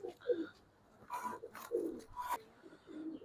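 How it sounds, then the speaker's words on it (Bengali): A young adult silver female pigeon coos in soft, low, rounded calls repeated several times at close range, mixed with a few sharper rustling noises between them. "এটা হচ্ছে একটা ফিমেল বার্ড, এটা আমার একটা পছন্দের একটা কবুতর।"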